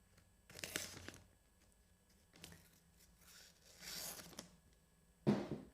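Scissors snip through a sheet of adhesive vinyl in several quiet, close crisp cuts with crinkling of the material between them, ending in a louder rustle.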